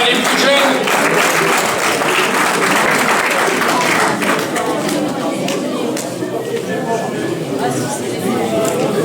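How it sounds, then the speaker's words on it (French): An audience at a UFOLEP Picardie championship event in Pasly, Aisne, applauds the veterans, dense sustained clapping from a crowd filling the hall, loud and continuous with some chatter mixed in. "Alors, on peut les applaudir, les vétérans."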